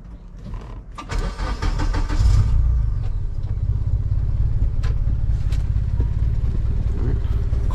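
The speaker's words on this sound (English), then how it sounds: "Car is idling" A Honda Element car engine with a turbo cranks and catches, then settles into a steady, close idle with a low continuous rumble.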